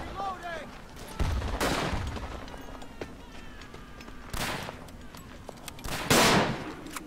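Grenade explosions in the World War I shooter Verdun: several loud bursts land a few seconds apart amid steady battlefield gunfire, with someone talking over the noise.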